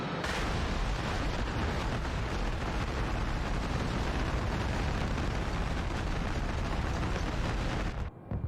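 Bombs and burning fuel explode at an airport during a Falklands raid, producing a loud, continuous roar of heavy blasts and rumble that runs unbroken for about eight seconds before cutting off abruptly.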